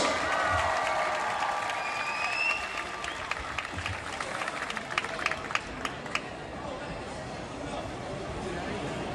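A large crowd at a TeamNL homecoming celebration for Olympic athletes applauds and cheers, a broad wash of clapping with crowd murmur and a few whistles. The sound thins toward the end, where scattered louder claps remain.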